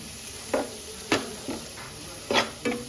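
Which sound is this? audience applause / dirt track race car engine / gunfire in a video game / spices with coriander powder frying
spices with coriander powder frying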